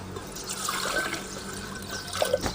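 Water splashes and trickles into a cooking pot set on a stove, a short steady pour with a few louder drips near the end, close by and fairly quiet.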